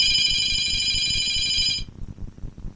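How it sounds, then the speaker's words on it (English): A mobile phone ringtone rings from inside a bag, a bright, steady electronic tone that plays loudly for almost two seconds and then cuts off, leaving low room noise. "Whose phone is that?"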